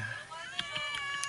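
A cat stuck up a tree meows in several short, high calls spread across the moment, heard close by under a person's coaxing voice.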